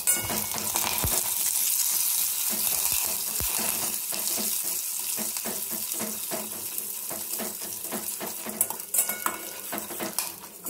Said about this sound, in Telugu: శనగబ్యాళ్ళు, ఉద్దిబ్యాళ్ళు, కరివేపాకు వేసుకొని మంచిగా ఫ్రై చేసుకోవాలన్నమాట.